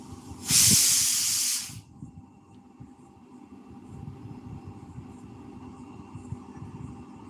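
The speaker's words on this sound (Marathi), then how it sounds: "कुकर बंद करून येते बोला तुम्ही" Steam hisses loudly from a home pressure cooker in one sustained burst of about a second, then cuts off, leaving quiet room noise.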